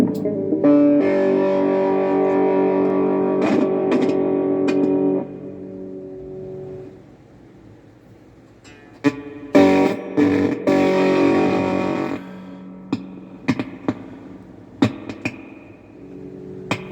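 Electric guitar chords through a 1960s Heathkit fuzz pedal, buzzy, fuzzy, blatty distortion; a long sustained chord, a pause, then choppy strummed bursts and short stabs.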